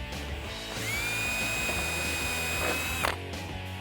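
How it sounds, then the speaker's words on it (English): A power drill bores a hole in the rear diffuser of a 2015-2021 Dodge Challenger, a V3R-style part. The whine climbs in pitch, holds steady and near for about two seconds, then stops abruptly. "Go ahead and drill the hole in your diffuser."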